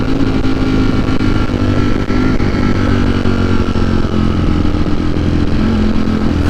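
A Ducati V4 Streetfighter motorcycle engine runs loud and close, a steady deep idle with a constant throbbing rumble and no revving, with no voices.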